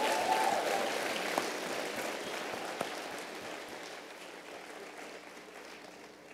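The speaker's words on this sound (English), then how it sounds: "Guys, one more round of applause for my volunteers" Applause from a lecture audience for the volunteers, starting fairly full and then thinning and fading steadily over several seconds, with no talk over it.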